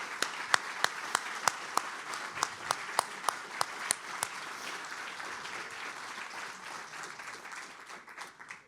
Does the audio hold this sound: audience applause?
yes